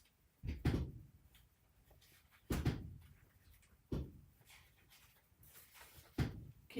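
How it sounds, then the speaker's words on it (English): A fifth wheel trailer creaks in a few separate, fairly loud groans and knocks spaced a couple of seconds apart, with quiet gaps between them. "can you hear the trailer creaking?"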